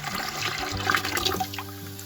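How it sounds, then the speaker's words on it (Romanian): Water, 5 litres measured from a bottle, poured into a larger container for a yeast fertilizer solution, making a steady splashing, gurgling stream that runs continuously for about two seconds, close by. "am ales să torn acei 5 litri într-un recipient mai mare"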